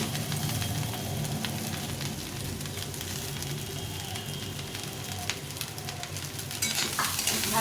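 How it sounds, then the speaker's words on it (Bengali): Leftover rice frying in a pan for fried rice gives a steady, close sizzle with scraping stir noises throughout, growing slightly louder near the end. "ভাতটাকে ভালো করে ভেজে নিতে হবে।"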